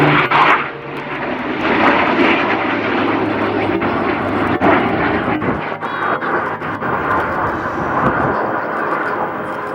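A Spitfire and a Typhoon pass overhead together at an airshow, a loud sustained roar of aircraft engines that swells and holds steady across the whole pass.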